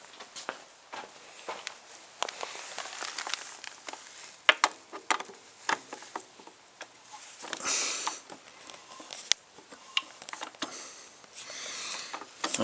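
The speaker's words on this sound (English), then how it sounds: "turn adjusting screw clockwise all the way using a socket wrench" A socket wrench turns the rear shock adjusting screw on a KTM 690R, giving close, irregular ratcheting clicks and light mechanical scrapes, with brief pauses between bursts.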